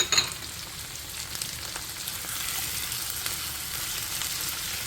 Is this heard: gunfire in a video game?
no